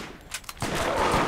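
Gunfire in the video game Borderlands, a few scattered shots followed by a loud, dense stream of rapid fire lasting to the end, with no talking.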